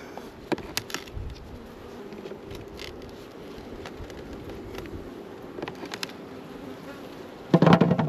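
Honey bees buzz steadily around an open hive as frames are inspected, a close continuous drone with individual bees flying past, and a brief louder knock or scrape near the end.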